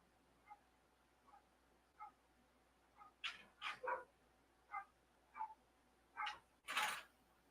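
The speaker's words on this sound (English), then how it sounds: "dogs are going crazy" Dogs barking in the distance, a series of about a dozen separate yips and barks spaced irregularly, some doubled, faint and far off over a quiet background.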